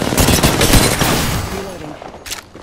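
Rapid bursts of gunfire in the video game Apex Legends, dense overlapping shots and a fusillade up close, tapering off with a final louder burst near the end, with faint voice chatter mixed in.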